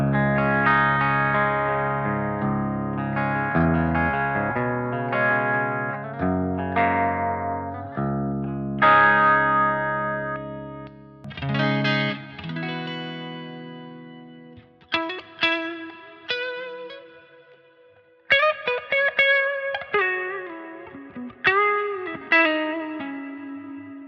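Electric guitar with a humbucker through a Revv Generator 120 MKII amplifier on its clean channel, bright glassy chords and arpeggios with added reverb, ringing out in phrases with pauses, alone and close.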